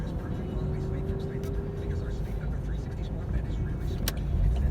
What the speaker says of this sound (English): that guy's car sounds terrible